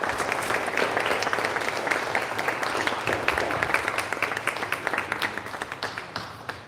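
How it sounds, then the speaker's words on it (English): An audience at a pastry arts competition awards ceremony applauds the judges with steady, dense clapping from a medium-sized crowd. The clapping thins and fades slightly toward the end. "give them a round of applause"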